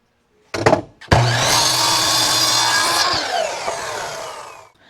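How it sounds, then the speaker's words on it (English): A miter saw cutting the end off a wooden 2x4 gives a brief spin-up, then a loud, steady whining cut lasting about two seconds, followed by the blade winding down. "Now we're just going to cut the end piece off with the miter saw."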